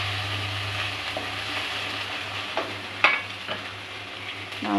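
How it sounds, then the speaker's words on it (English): Spices and green chilies sauté in hot oil for dal fry, making a steady, close sizzle with occasional scrapes and taps of a spoon stirring the pan. "so all this I am going to fry now. Saute for just a few seconds."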